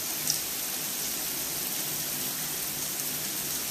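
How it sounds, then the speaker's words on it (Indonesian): Heavy rain pours down in Dubai as a constant, dense hiss of water, steady and fairly close with no pauses, and no voices over it. "Akhirnya alhamdulillah Dubai turun hujan guys"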